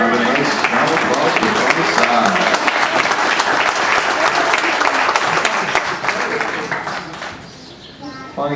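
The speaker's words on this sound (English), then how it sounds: "Have a nice round of applause" Loud, dense applause from a crowd honoring the gutsy gelding racehorse Sunnyside after his win at the Kentucky Horse Park, filling the scene steadily before thinning near the end, with voices mixed in.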